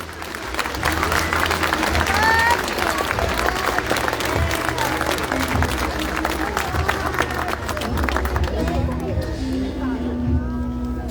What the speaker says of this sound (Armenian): առաջարկում եմ ևս մեկ անգամ ծափարել